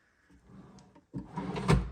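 A solid oak drawer with soft-close runners slides open and shut, a short wooden rumble followed by a louder gliding thud with a brief clack near the end.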